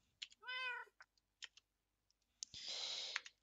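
A cat in the Minecraft video game gives one clear, drawn-out meow among light clicking and keyboard taps, followed by a burst of hissy noise.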